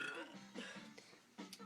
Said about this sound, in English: Then keep burping.